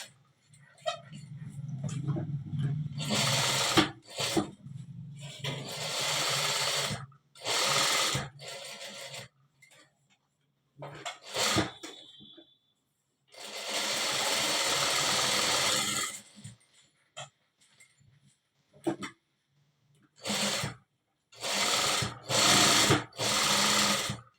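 A sewing machine stitches a frock in repeated bursts of rapid whirring, from a few seconds to several seconds long, separated by silent pauses. Each run is close and loud.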